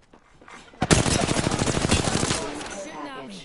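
In a video game, gunfire aimed at the player erupts as a rapid string of loud, close shots lasting about two seconds before it fades.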